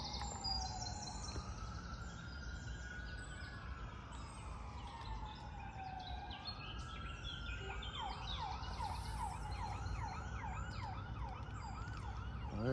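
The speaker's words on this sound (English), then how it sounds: "I heard a police car" A police car siren wails beside a fishing spot, rising and falling, then switching to a faster yelp as it passes at a moderate distance, with birds faintly audible in the background.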